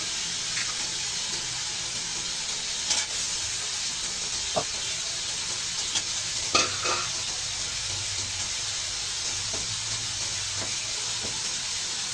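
Steady hiss of frying spice paste in a pan, with occasional clicks and stirring scrapes as potatoes are added for a Bengali koi fish bhuna, close and continuous with no talk.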